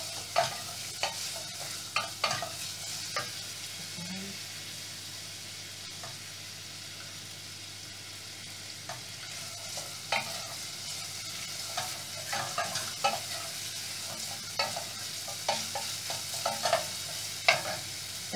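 Garlic being stirred as it fries in a pan at home, with a steady soft sizzle and repeated scraping strokes of a utensil, close and alone.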